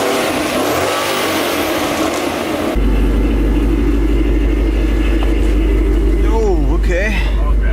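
A supercharged Ford Mustang S550 with a 5.0 V8 on the road, a loud, constant engine drone and rumble that steps up into a heavier, fuller roar partway through.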